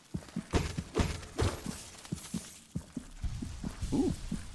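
Muffled heartbeat pulse from an egg sac in Hollow Knight, repeating as irregular low double thumps amid other game sounds, moderately loud and close with no talking.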